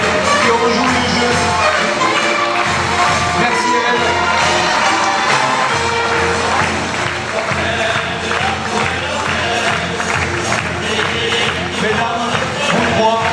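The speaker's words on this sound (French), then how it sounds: "Vous pouvez fortement applaudir les jeunes filles qui se sont présentées, qui ont joué le jeu." Audience at a festival queen election evening, Hagetmau 2019, applauding the young women candidates with sustained clapping and crowd noise while a voice speaks over a loudspeaker.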